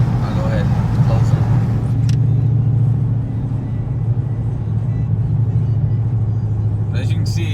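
Cabin sound of a Dodge R/T with a swapped 6.4 liter engine: a loud, steady low rumble from inside the car, easing slightly partway through, with a few light clicks near the end.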